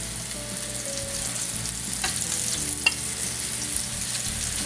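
Floured beef browns in a pan of hot oil with a steady, soft sizzle and crackle, broken by a couple of sharp utensil clicks, with no talking.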